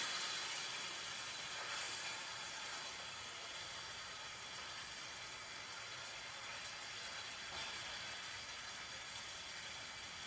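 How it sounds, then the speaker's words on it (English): Burgers sizzling in a pan, a steady, even hiss that runs unbroken throughout at low volume, with no talk. "I'm about to flip these burgers again too"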